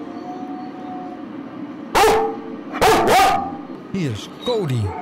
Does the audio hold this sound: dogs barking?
yes